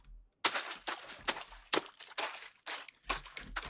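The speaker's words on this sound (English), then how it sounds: "you hear puddle footsteps" Player footsteps splashing through puddles in a first-person Unity game using FMOD, about eight wet, slapping steps in an even walking rhythm, close and distinct after a short silence.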